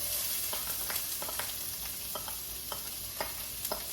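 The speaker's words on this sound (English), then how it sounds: "And I'm going to put my vegetables and saute them when it comes up to heat." Onions and peppers saute in olive oil in a pot for chili, giving a soft, continuous sizzle broken by intermittent stirring scrapes and taps, close up with no voices.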